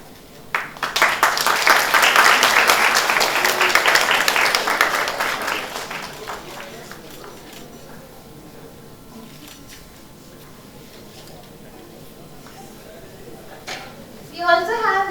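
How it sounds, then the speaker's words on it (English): Audience at a university session on AI and media bursts into applause, a dense, loud stretch of clapping that builds quickly, holds for several seconds, then fades into quieter room noise with a brief rustle near the end. "Can we have a huge round of applause?"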